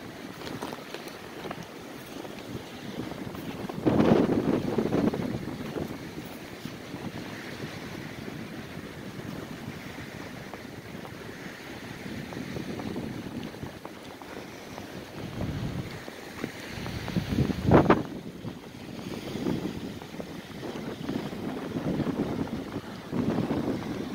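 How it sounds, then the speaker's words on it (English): A strong, cold wind blowing off the bay in early winter rushes and buffets the microphone in uneven gusts, with louder surges around a few moments, a steady blustery roar with no talking. "The way the wind's whipping up,"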